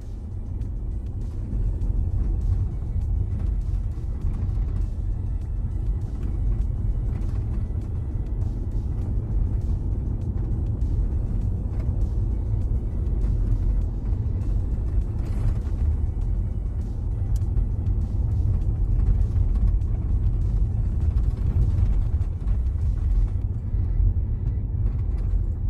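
A car's interior rumbles steadily as a ten-year-old child drives it on the road, a low, constant engine and road drone with faint occasional clicks throughout.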